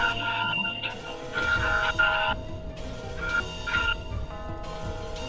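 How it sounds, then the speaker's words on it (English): A 3 a.m. alarm in a Roblox horror game sounds as loud repeating electronic buzzing bursts, each lasting about a second with short gaps, over a low rumbling background. "Oh my god, the alarm!"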